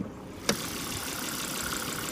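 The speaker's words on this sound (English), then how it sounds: "I'll take you out, listen to the engine a little bit" A 2003 Volvo S60 engine idles with an even, steady hum. A single sharp click sounds early on, and then the idle carries on alone, unchanged.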